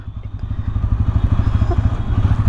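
Bajaj Pulsar N160 4V SS single-cylinder motorcycle crawling in gear with no throttle, a steady low, rapid engine thrum with light mechanical clatter, close and continuous throughout.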